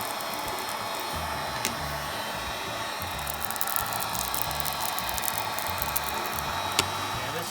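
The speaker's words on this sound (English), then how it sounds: "this hot air gun just makes it so much easier to take off" A hot air gun heats the adhesive behind a sanding disc on a disc sander, producing a steady, unbroken blowing hiss with a couple of faint clicks.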